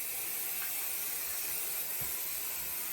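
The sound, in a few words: spraying white quilt fabric on an ironing board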